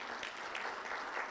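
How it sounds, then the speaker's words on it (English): A short burst of faint, distant applause from an audience at a job fair in a main hall, soft and continuous. "Let's clap for her as she's coming."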